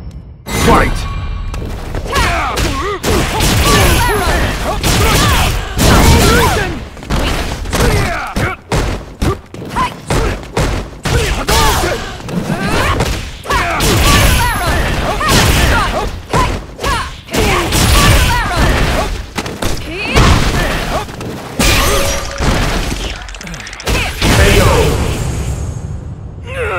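Street Fighter V fight round with rapid strikes, thuds and whooshing impacts in dense bursts, loud and nearly continuous, under game music and announcer-style voices.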